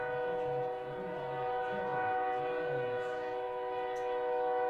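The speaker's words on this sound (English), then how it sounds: "Train rolling through here at Hyde Stadium, or past Hyde Stadium." A freight train rolls past a baseball stadium during a high school game and sounds its horn in a long, steady multi-tone blast. A low rumble of the train runs underneath it.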